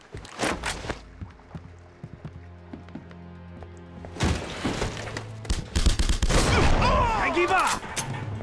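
Gunfire in The Punisher video game on PS2, bursts of shots followed by heavy sustained automatic fire and impacts, loud and close, mixed with game sounds.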